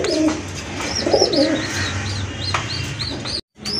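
A pair of pigeons, male and female, coo repeatedly in a steady rhythm, close and clear, with chirps from other birds around them and a brief drop to silence near the end.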